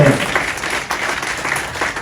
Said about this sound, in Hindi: मैं समझता हूँ जोरदार तालियां मानी चाहिए